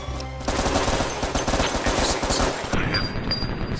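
Rapid bursts of video game gunfire in Crisis Brigade, a PSVR shooter, loud and dense automatic shots for several seconds before easing off, with no talking.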